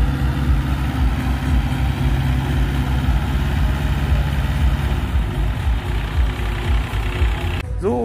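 An IFA Multicar M25 all-wheel-drive utility vehicle from the former East Germany idles steadily at a vintage vehicle meet, a low rumbling, evenly pulsing engine close by with no talk over it.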